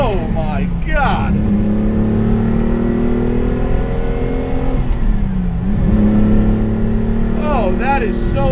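The engine of a 1975 Lancia Stratos HF Group 4 works rally car drones steadily with a deep bass note and blips up at the start, middle and end. Talk is heard under it.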